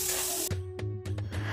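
Spice masala with chopped tomato fries in a pan over low to medium heat. The sizzle is close and steady, with a few short clattering stirs partway through.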